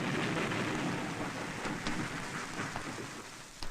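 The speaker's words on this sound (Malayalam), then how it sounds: "പുറത്ത് നല്ല മഴ" Steady rain falls outside at night, a dense continuous hiss of drops with a few brief louder spatters, no voices over it.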